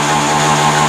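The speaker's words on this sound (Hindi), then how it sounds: "तो यहाँ पे बाइक स्टार्ट हो रही है" A Honda Shine BS6 motorcycle engine, fitted with a spark plug that has a current fault, runs with a loud, steady, close-up drone and no break in its tone.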